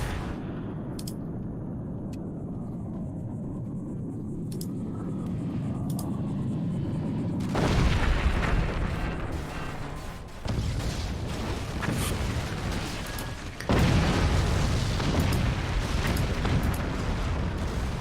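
A howitzer shell boosted by a Warthog strikes and blows apart a fort in a strategy video game, with a deep roaring explosion rumble that swells at about seven seconds and surges again near fourteen seconds, loud and sustained.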